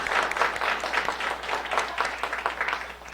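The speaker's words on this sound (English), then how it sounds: "So please, a round of applause for Marilyn." An audience at a launch party claps warmly for a few seconds, a dense and even patter of many hands close by that holds steady before easing off slightly at the end.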